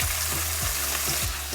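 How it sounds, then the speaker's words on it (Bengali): Onions frying in hot oil with a tempering of black mustard seeds and asafoetida, for a potato dish. A steady, close, even sizzle runs throughout with no voices. "ফোড়নটা ভাজা হয়ে গেলে পেঁয়াজটা দিয়ে দেবেন।"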